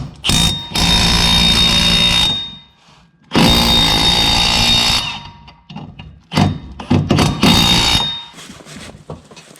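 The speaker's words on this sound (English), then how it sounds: "There, that should be enough for the impact drill to do its thing." An impact drill loosening 18 mm bolts during leaf cleanup work, running in loud close bursts of a few seconds each, with gaps of quiet between the longer runs and shorter stuttering pulses near the end.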